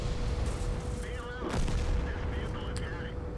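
Artillery booms in a tank video game, a sharp blast amid game battle noise, with a voice talking over it.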